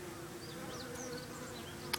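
Japanese honey bees, worker bees split from a hive, buzz in a dense, steady hum up close, with individual wingbeats weaving over the drone and a brief tick near the end.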